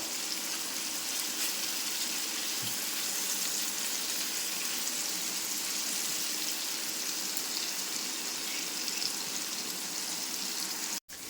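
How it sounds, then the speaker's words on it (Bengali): Ridge gourd frying in a pan while being stirred: a soft, even sizzle hissing continuously at low level, close by and alone, with a faint knock near the start. "এইভাবে নাড়াচাড়া করে আমি আর একটু লাল লাল করে ঝিঙেটা ভেজে নিচ্ছি"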